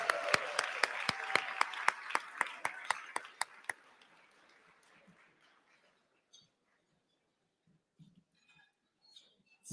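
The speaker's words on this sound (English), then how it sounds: "Let's give them all a round of applause." An audience at an advertising awards evening claps for the event sponsors. The applause is loud and sharp at first, then fades out over a few seconds, and a few faint scattered noises follow in near silence.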